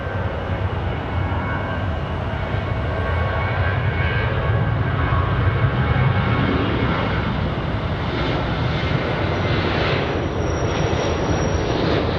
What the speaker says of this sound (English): That's a good one, 747 SP.